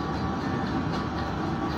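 The Jayabaya passenger train at Bekasi station gives a steady low rumble and hum of wheels and carriage, heard from inside at a moderate level, brief and without voices.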